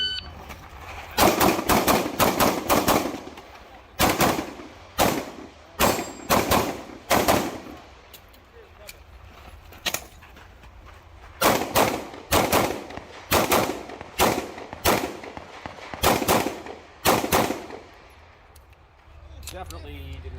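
SIG-Sauer P365 X-Macro pistol firing at a shooting match on cardboard target stages: loud close shots in rapid strings of several rounds, separated by short pauses, with talk in between.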